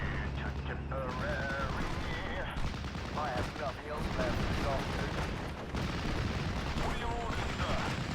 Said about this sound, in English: I think the Panzerjäger is actually firing at the rifles and not the AVRE